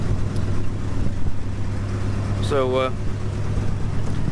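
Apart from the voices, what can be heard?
six-cylinder crew cab truck engine idling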